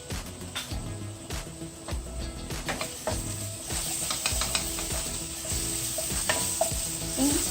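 Ginger-garlic paste frying in oil with browned onions for a South Indian chicken curry, loud steady sizzle with repeated scraping stirs of a spoon against the pan, close by and with no voices.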